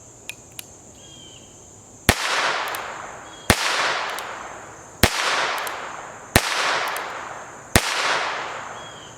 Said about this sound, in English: We're going to shoot another round with one hand.